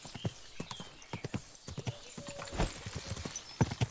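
A horse's hooves clip-clop in a steady walking rhythm in the video game Kingdom Come Deliverance 2, close and fairly quiet, with a brief whinny-like sound midway and no talking.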